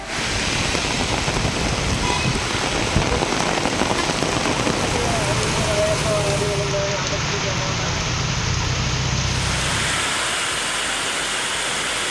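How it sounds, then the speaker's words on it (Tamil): Heavy rain pours down in Tamil Nadu, a dense, loud and unbroken roar of water that holds steady for the full stretch with a low rumble underneath. "பகுதிகளில் கனமழை கொட்டி தீர்த்தது"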